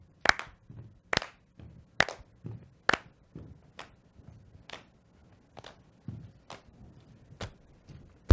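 Children clap their hands above their heads in a slow, steady series of sharp, distinct claps, evenly spaced and fairly close, with no talking.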